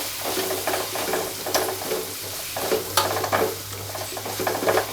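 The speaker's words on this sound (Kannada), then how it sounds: "ಈಗ ಇದನ್ನು ಚೆನ್ನಾಗಿ ಮಿಕ್ಸ್ ಮಾಡ್ತಾ ಇದ್ದೀನಿ" Green chilli and garam masala stirred in a frying pan, with steady sizzling under repeated spoon scrapes against the metal in an uneven rhythm, close and moderately loud, no talk.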